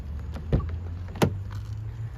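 A 2024 Genesis GV80 Prestige SUV's soft-close door pulls itself shut with two soft mechanical thunks about a second apart, the second slightly stronger, over a low steady hum.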